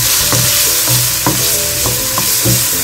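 Garlic and onion sautéing in a pan: a loud, constant sizzle with a spatula scraping the pan in regular strokes roughly every half second, close and with no talking.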